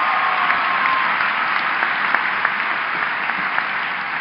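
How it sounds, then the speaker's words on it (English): Sustained audience applause fills a commencement ceremony hall at Oakland University, a steady dense wash of many hands clapping at even loudness throughout, with no voices over it. "Big round of applause for that."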